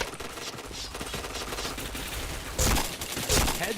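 Rapid bursts of automatic gunfire from a shooting video game, with several volleys in a row and a louder, closer burst near the end. The shots play at a moderate level.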